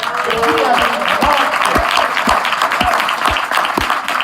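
An audience claps steadily, a dense wash of applause with a few louder individual claps standing out, fairly close and sustained throughout.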